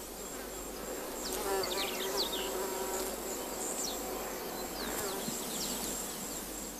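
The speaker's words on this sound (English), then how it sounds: "Fourfold slow motion allows observation of how a bee approaches a flower with her antennae stretched forward." A bee hovers in close to an oil-producing flower, its steady buzzing drone filling the whole stretch with slight swells as it shifts position, with faint chirps from the background and no talk.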